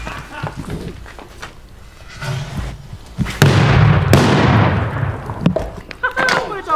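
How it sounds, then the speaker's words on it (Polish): A firecracker goes off inside a washing machine drum: a loud, sharp bang followed by a long, hissing, ringing decay, with excited voices talking around it and earlier clattering. "to co, może jakaś petardka, Karol, na zakończenie?"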